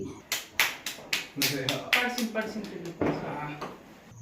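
A little child claps hands at a family Bhai Dooj gathering, a series of irregular sharp claps in quick succession, close by, with people talking over them.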